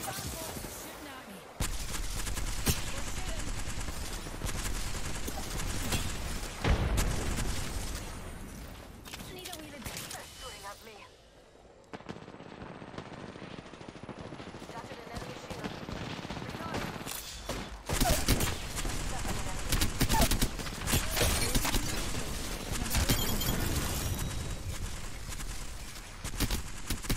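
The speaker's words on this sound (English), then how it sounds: "Shooting at me." Apex Legends video game gunfire: dense, continuous bursts of automatic weapon shots and impacts, loud and close, nearly filling the whole stretch with only a brief lull midway.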